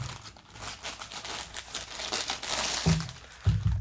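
A pink prize figure piece is pulled out of cut-open plastic sleeve packaging, giving close, quiet crinkling and rustling of plastic with a couple of sharper crackles near the end.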